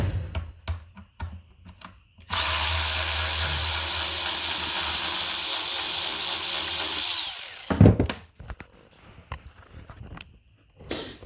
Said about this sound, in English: I'll just take this bolt out right here.